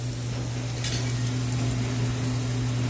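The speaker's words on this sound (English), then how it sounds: "so I have some olive oil in the pan here. We're gonna go ahead and lay our fish down" Salmon fillet laid into hot olive oil in a frying pan gives a steady, close, even sizzle and hiss with a faint electrical hum beneath, no voices.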